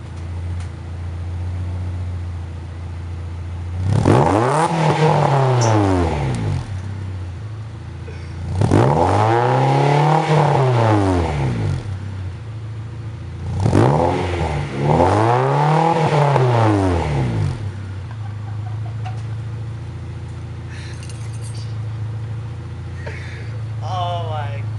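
A 2000 Honda CR-V fitted with a DC Sport muffler revs hard three times in a row, each rise and fall loud and close, with a steady idle between the revs and faint voices in the background.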